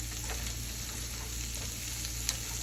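Potato gnocchi frying in butter in a pan, a steady close sizzle and crackle running throughout with no voices.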